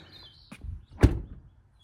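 The driver's side door of a rusty Ford Ranger Raptor pickup swung shut, a single close, dull thud after a faint earlier clunk, ending in quiet.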